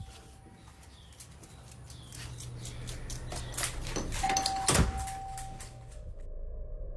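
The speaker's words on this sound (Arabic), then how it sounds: "فجأة جرس الباب بيرن بشكل هستيري" A front doorbell rings over and over in a home, the electronic tones sounding repeatedly at moderate distance amid faint background noise, with no one speaking.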